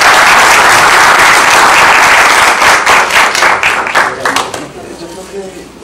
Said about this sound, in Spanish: Muchas gracias y un aplauso